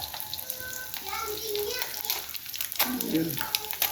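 Galunggong fish frying in hot oil, a steady soft sizzle running throughout under people talking and children's voices nearby.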